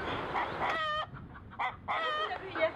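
Sicilian-breed chickens and roosters cluck and squawk in a few short, loud bursts close by, with harmonic calls breaking through brief pauses and no talk over them.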